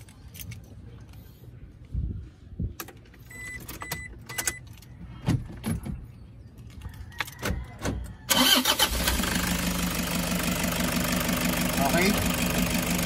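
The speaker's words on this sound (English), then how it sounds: "So, pwede na natin i-start yung engine." Toyota HiAce engine starting after a fuel filter change: several clicks and handling knocks, then the engine cranks and catches around eight seconds in, settling into a loud, steady idle that runs to the end.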